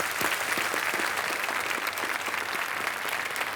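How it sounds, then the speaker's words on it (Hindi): A studio audience on the Kaun Banega Crorepati quiz show bursts into continuous, even applause that stays loud and full throughout, with individual claps faintly distinct in the wash. "तालियां बज जाएं उनके लिए।"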